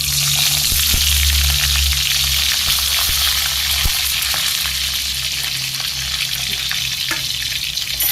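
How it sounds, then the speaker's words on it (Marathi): Stuffed brinjals for a spicy Maharashtrian khar vanga hiss and sizzle steadily in hot oil with cumin tempering in a kadhai, a loud continuous frying crackle with a few soft clinks of pieces being added. "आता एक एक वांगे त्यात सोडूया"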